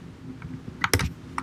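A handful of crisp, close keystrokes on a computer keyboard as a short command is typed, a quick cluster of clicks around the middle and one more at the end.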